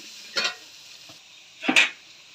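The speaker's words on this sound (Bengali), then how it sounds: "পেঁয়াজ একটু ভাজা ভাজা হয়ে আসলে দিব রসুন বাটা" Two short, separate scraping stirs of chopped onions frying in a pan, with a quiet background between them.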